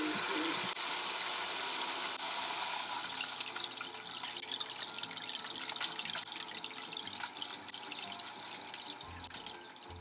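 Water from an aquarium filter flows steadily into a 40-gallon axolotl tank, a continuous close splashing and trickling rush that holds even for the whole stretch without pause.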